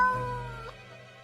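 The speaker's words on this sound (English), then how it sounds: "The cat answers with a meow of uncertainty." Cat meow in the video game Death and Taxes, a single drawn-out, slightly falling meow heard alone, fairly clear and close.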